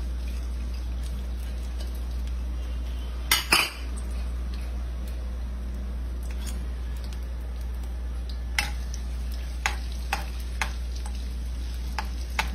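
Garlic frying in a small pool of heated oil for chili oil, a faint, steady sizzle under a low hum, broken by a few sharp clicks and one louder scrape of stirring.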